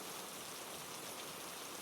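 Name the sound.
light rain falling, audiobook sound effect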